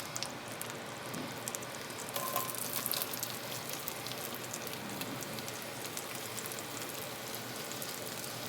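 Sliced onions frying in melted butter in a cast iron skillet, a constant hissing crackle like light rain, steady and moderately quiet throughout, with no voices.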